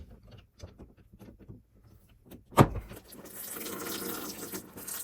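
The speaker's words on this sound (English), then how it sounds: "Just all the water that was in the line going up to the shower head." Water drains from a disconnected shower valve supply line, starting with a sharp pop and then turning into a steady splashing, gurgling flow that continues to the end, after a few quiet clicks and handling noises.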